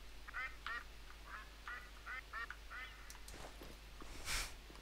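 Birds in TheHunter: Call of the Wild give a series of rhythmic, quacking, duck-like calls at moderate distance, with a rustle and a brief louder burst near the end over a low background hum.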